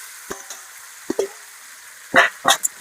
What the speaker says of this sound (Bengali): মশলা থেকে তেল ছেড়ে দিতে ভাজা আলু আর ফুলকপি দিয়ে দিলাম।